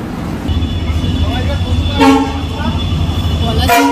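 A moving train rumbles steadily throughout, with two short horn toots, one near the middle and one near the end, over a low continuous roll of wheels.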